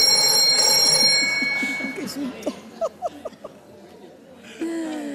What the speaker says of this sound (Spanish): El teléfono, Luis, que te va a matar.